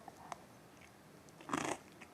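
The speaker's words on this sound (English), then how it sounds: "There's a lovely crunchiness to that potato" A bite into the crunchy potato topping of a hot venison cottage pie gives one short, close crunching burst, with a faint click just before it and quiet around it.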